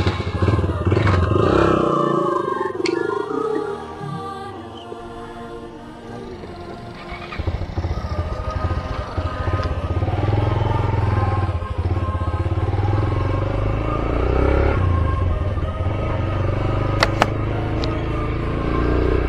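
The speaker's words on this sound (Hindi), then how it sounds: "today we are riding this beauty Yamaha YBR G 125cc" A Yamaha YBR G 125cc motorcycle on the move, its engine droning steadily under heavy wind and road noise throughout, with louder rumble at the start and rising pitch sweeps as it accelerates.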